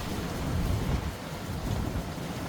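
Thunderstorm outdoors by a tent, with steady rain and wind forming a continuous low rumbling wash of noise, fairly loud and unbroken, with no voices.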